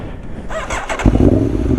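A Ducati Streetfighter V4S or Aprilia Tuono V4 1100 Factory motorcycle revs up through rising exhaust notes, then settles into a loud, deep, throaty rumble close by.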